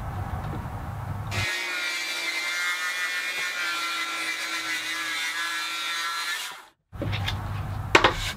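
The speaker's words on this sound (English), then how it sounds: "Not bad for a homemade track saw." A homemade track saw ripping through black walnut, a loud sustained whining cut that starts after a brief idle, runs steadily for about five seconds, cuts off abruptly, then a short burst of motor noise returns.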